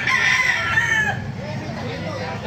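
A rooster crows once, fairly close, its call rising and then trailing off over a low background murmur.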